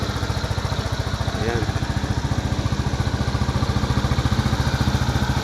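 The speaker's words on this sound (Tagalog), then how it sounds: "Mga branded talaga ng motor yung tunugan niya." A Euro Motor Falcon 180i motorcycle runs at steady idle, its engine putting out a quiet, even rapid thump that stays close and constant.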